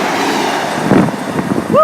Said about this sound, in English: And coming through now is another train.